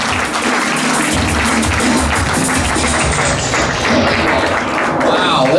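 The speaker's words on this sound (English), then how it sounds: "listen to that smattering of half fucking super weak applause" A thin, scattered smattering of audience applause fills a comedy club room, steady light clapping with some background noise beneath it.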